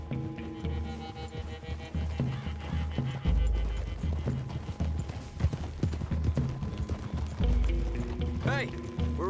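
Horse hooves clip-clop steadily in a Western-style video game, several horses walking through trees, under frequent character dialogue and a soft music bed.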